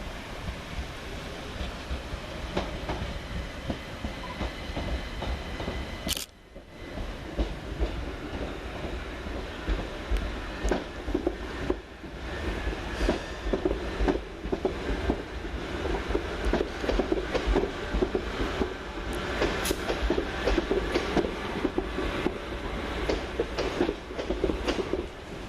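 A Class 377 electric train from Littlehampton rolls into Preston Park station. Its wheels clatter steadily along the rails with a continuous rumble, and a sharp brief screech of wheels or brakes cuts through partway in.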